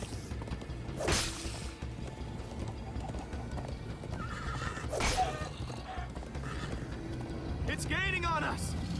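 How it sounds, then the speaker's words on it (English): Horse hooves clatter at a gallop with a sharp whinny near the end, in the Minecraft Story Mode video game, set amid loud whooshing action sounds and music. "First time on a horse here."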